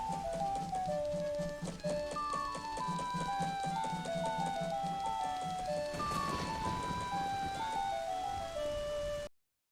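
Continuous rainfall in The Legend of Zelda: Majora's Mask hisses under a looping melodic tune of plinking tones, steady and even before cutting off abruptly at the end.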